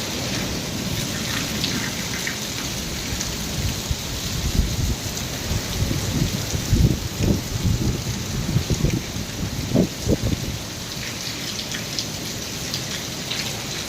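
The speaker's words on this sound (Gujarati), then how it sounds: "વરસાદ કડાકા ભડાકા તમે જોઈ શકો છો" Steady heavy rain pours with strong wind throughout, with low rumbling thunder rolling in the middle and a few louder cracks near the end, during a summer storm in Chotila, Gujarat.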